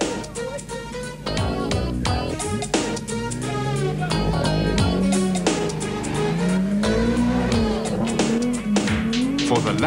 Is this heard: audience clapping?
no